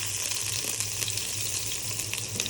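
Chopped garlic and onion fry in a pan with a steady, bright sizzle that hisses continuously at close range, with faint stirring clicks and no voices.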